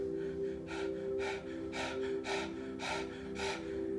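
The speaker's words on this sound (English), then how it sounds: "8 breaths in, 8 breaths out." Quick, forceful breaths in and out during a morning stretching routine, about half a dozen even, rhythmic, close-up cycles with no talking over them.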